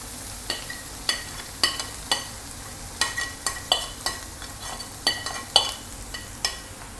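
Onions and garlic sautéing in oil for fish mappas: a soft background sizzle broken by regular sharp scrapes and clinks of a spoon stirring the pan, roughly two per second, close and fairly quiet.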